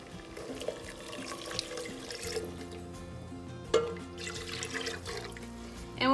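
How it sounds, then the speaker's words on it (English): Chicken broth and milk pour into a pot, a continuous splashing liquid stream with a slight gurgle and one sharper clink midway, steady and close throughout. "we're gonna pour in the chicken broth as well as the milk"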